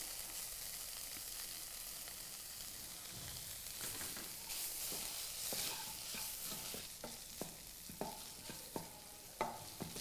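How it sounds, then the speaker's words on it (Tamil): Grated paneer frying with onions in a pan, a steady loud sizzle with repeated stirring scrapes and sharp spatula clacks growing more frequent toward the end, no voices. "ஸோ இந்த ஸ்டேஜ்லேயே நான் வந்து பன்னீர் ஆட் பண்ணுறேன்."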